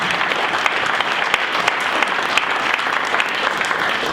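Audience clapping at an Olathe Chamber of Commerce talk, a loud, dense, continuous round of applause from a roomful of people, with a few sharper claps popping out close by.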